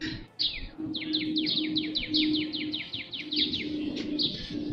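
Birds chirping outdoors, a rapid series of bright repeated chirps in a steady run lasting several seconds, fairly close and clear over a low background hum.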